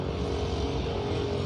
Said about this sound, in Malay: Hari ni kalau kita dengar ni deruruman kereta dan kenderaan di sana